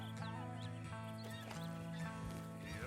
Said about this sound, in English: drive the horses over there towards Albert.